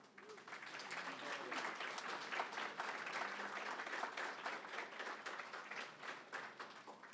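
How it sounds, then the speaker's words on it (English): Audience applause for a geriatric care panel at the close of its discussion, steady dense clapping filling the room for several seconds, fairly quiet and distant. "If we can give them a round of applause."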